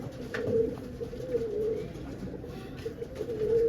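Home-bred Lal Pari pigeons cooing, soft low repeated coos rising and falling over a faint background hum, close by.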